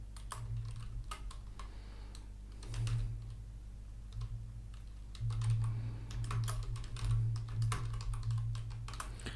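Fingers type on a computer keyboard in quick, irregular bursts of close, crisp clicks over a low steady hum, with no one speaking.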